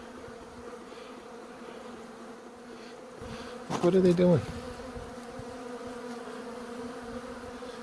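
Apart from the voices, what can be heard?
honeybees flying out for cleansing flights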